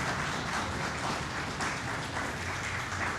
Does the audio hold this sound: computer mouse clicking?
no